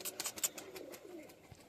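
Racing pigeons coo close by in soft, repeated throaty calls, quiet and without talk.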